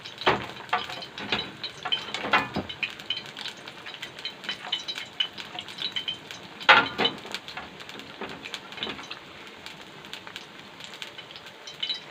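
Rice fries in oil in a pan with an uneven crackling sizzle, scattered pops and spits rising and falling over about twelve seconds, and nobody speaking.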